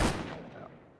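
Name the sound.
gunshots from shotgun and pistol in a video game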